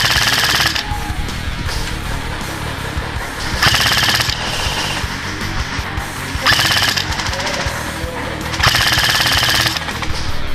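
Rapid bursts of full-auto fire from an Airsoft Extreme Warfighter DMR electric airsoft gun shooting BBs in an outdoor skirmish, four loud buzzing volleys with pauses between them.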